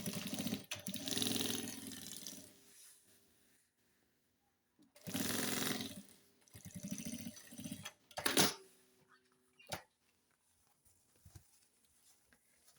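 A sewing machine stitches suede for a necessaire in short separate bursts of rapid mechanical whirring, fairly quiet and close, with pauses of near silence between runs.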